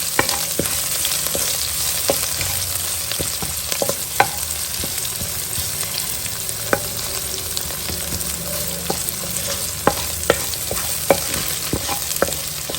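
Garlic and urad dal fry in oil in a pan, a steady close sizzle with frequent light scraping taps from a stirring spoon throughout.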